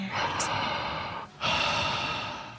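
Heavy, breathy exhales up close after walking up a hill, a long huff, a brief pause, then another strong out-of-breath breath fading away.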